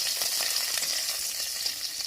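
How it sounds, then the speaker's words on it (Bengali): Chopped ginger and green chillies fry lightly in a pan with a steady, close sizzle. Occasional stirring scrapes sound through it, and nobody speaks. "আর এই যে এইটুকু আদা দিয়ে আমি হালকা ভেজে নেব।"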